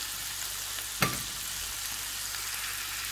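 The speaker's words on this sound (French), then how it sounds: "Et on va laisser tout ça mijoter" Onion greens with a little salt cook in a pan with a faint, even sizzle, interrupted once by a single sharp knock of a utensil against the pan.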